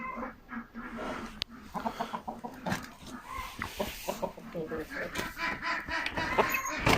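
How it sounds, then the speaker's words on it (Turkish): Ducks quack repeatedly from outside, several calls in an irregular run, mixed with clucking hens nearby while a person talks. "Dışarıdan da ördekler nasıl vaklıyor."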